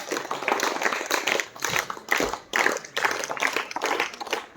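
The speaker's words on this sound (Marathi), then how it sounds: "आपण जोरदार टाळ्या वाजूया त्यांच्यासाठी" An audience applauds at a gathering: a crowd claps in dense, sustained rounds, broken by short pauses, loud and close.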